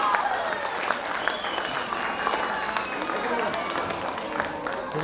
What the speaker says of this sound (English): Clapping for them and cheering for them as loud as we can.